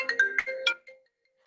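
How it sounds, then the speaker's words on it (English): A phone gives off a short ringtone of quick bright chiming notes, close and fairly faint, that ends after about a second. "So this is a phone ringing sound."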